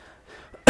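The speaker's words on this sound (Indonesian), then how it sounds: "maaf, lagi batuk nih sebenarnya ya" A single sharp, loud cough bursts out close to the microphone right at the end, after a stretch of near silence with only faint breathing.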